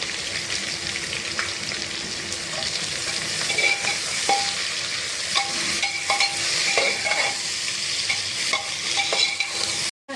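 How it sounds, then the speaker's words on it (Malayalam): Sliced onions sauté for chicken biryani in a pan with whole spices such as cinnamon, giving a steady loud sizzle with scraping stirs throughout and a brief cut at the end. "ഇതിലേക്ക് നമുക്ക് ഒരു 10 സവോള അരിഞ്ഞത് ഇതിട്ട് ഒന്ന് വഴറ്റി എടുക്കാം."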